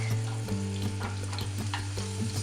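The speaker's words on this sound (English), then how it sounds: "we're gonna saute these together until the onions get soft" Onions and garlic sauté together in a pan as the first step of a garden vegetable frittata, giving a steady close sizzle with occasional stirring clicks and no voices.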